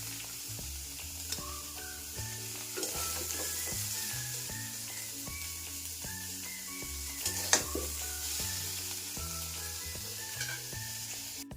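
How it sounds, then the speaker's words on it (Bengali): Soybean chunks fry in oil in a pan with a constant, lively sizzle and occasional stirring scrapes, while background music plays quietly underneath. "সয়াবিনটা আমি প্রথমে ভাজা ভাজা করে নেব"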